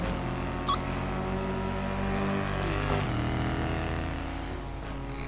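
A race car engine in a racing sandbox game screams steadily at high revs with layered harmonic drone, dipping briefly mid-run as it shifts, loud and continuous with no talking.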